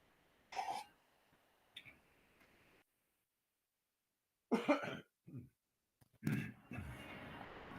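Several short throat-clearing coughs come in separate bursts, close and moderately loud, with quiet gaps between them.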